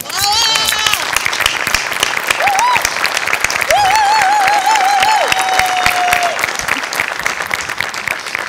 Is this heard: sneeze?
no